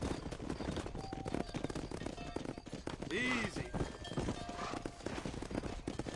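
Galloping horse hooves in the Red Dead Redemption video game, a rapid, continuous clip-clop rhythm close by, with voices calling out and a brief whinny-like cry partway through.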